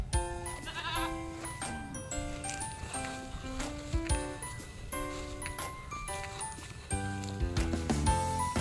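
Goats bleat in their pen on a provincial Philippine farm where young are due soon: overlapping nasal cries at varied pitches, several animals calling continuously and fairly close, with no talk.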